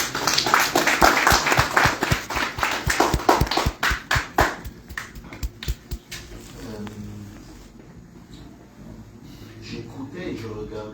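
An audience at a tribute gathering applauds a speaker, a burst of rhythmic, fairly close clapping that fades out after about five seconds, leaving a quieter room with murmuring voices and faint talk.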